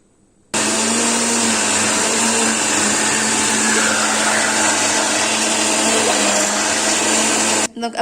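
A blender runs continuously for about seven seconds, whirring loudly and steadily while mixing a butter-free Richbond-style cake batter with lemon zest. It starts abruptly and cuts off near the end, with no talk over it.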